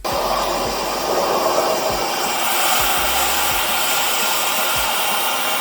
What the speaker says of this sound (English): The other con with this hair dryer is it is extremely loud.